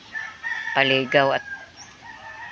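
A rooster crows twice in quick succession, loud and close, at a Filipino backyard flock of Texas-breed chickens kept for a coop, with faint clucking and farmyard murmur around it.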